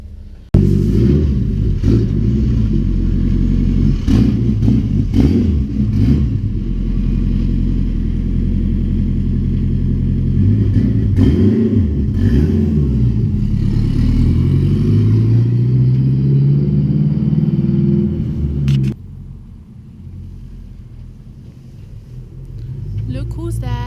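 Turbocharged Acura RSX race car engine idling and revving loudly and close, with rising pitch sweeps in the middle before it settles lower, while people talk over it.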